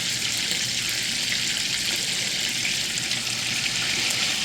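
Beef steak sizzles steadily in a hot pan of butter, a close, constant crackling hiss with no voices.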